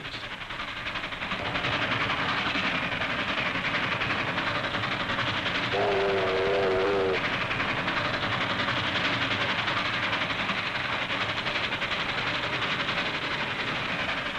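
Train running on a 1950s New Zealand railway, a steady loud rumble of wheels and carriages with a brief whistle sounding midway, continuing without pause.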